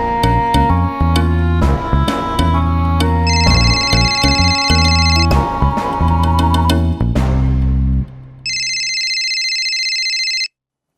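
Loud music plays, then cuts off and an electronic telephone ring tone sounds once for about two seconds before stopping.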